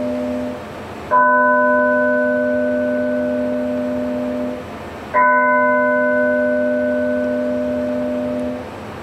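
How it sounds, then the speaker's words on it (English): A synthetic bell tone sounds twice, each built from steady layered partials that hold for several seconds before cutting off, with no other sounds. "That was a bell."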